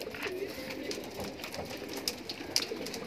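Pigeons released from a loft near Mahim Dargah coo softly nearby, low throaty coos repeating over a steady background murmur, with a few faint higher chirps.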